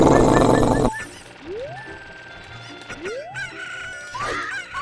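Cuccos in Zelda: Ocarina of Time give out clucks and rising squawks as loud game music cuts away, leaving several sweeping chirps and calls at moderate volume with no talking.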